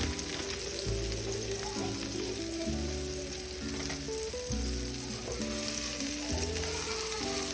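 Burgers fry and sizzle steadily in a pan for the whole stretch, a loud, continuous crackle of hot grease with no talking over it.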